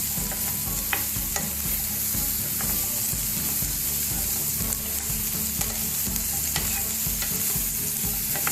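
Vegetables for kadai paneer sizzle and crackle steadily in a kadai over high flame, with frequent scraping stirs, loud and continuous with no talk.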